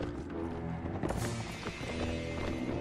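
A heavy horse in the medieval battle game Mount & Blade Warband gallops, its rapid rhythmic hoofbeats thudding fairly quietly beneath a busy, layered game soundscape.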